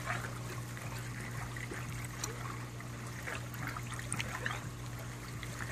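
Water trickles steadily from four airlift pumps, driven by an 8 watt air pump, into 60 sq ft Earthan grow beds: a soft continuous splashing under a low electrical hum, with no voices.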